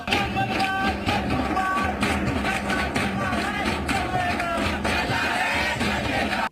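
Left-wing student protesters at JNU chant and shout slogans together while an effigy burns, a dense crowd roar that stays loud and continuous with voices overlapping throughout.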